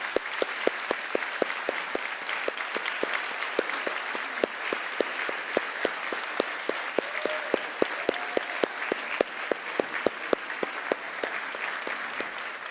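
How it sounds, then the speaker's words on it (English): Steady, sustained applause from an audience at the close of a keynote lecture on CAG triplet repeat disorders, a dense even patter of many hands with a few sharper claps standing out, carrying on alone for the whole stretch. "we want to give you a big applause"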